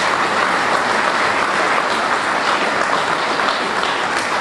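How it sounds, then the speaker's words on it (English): A ceremony crowd at the grand re-opening of a veterans memorial building applauds in a dense, even wash of clapping that fills the room without pause. "Please give a round of applause to these ladies."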